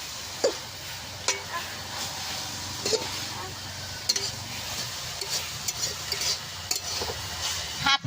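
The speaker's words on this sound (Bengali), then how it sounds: "লবণটা দিয়ে নাড়া দিয়ে দিব" Leafy greens being stirred with salt in a cooking pan, a continuous sizzle with intermittent scraping and clatter of the spoon; speech is present in places.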